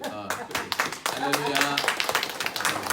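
A church congregation claps in welcome during a Sunday service, a burst of scattered hand claps mixed with voices talking over it.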